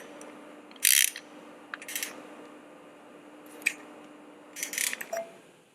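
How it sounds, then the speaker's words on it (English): A hand ratchet tightening the timing belt tensioner bolt on a Ford Zetec SE 1.6 engine gives a few short, crisp bursts of clicking spaced over several seconds, close by against a quiet workshop background. "You then take your ratchet and you secure"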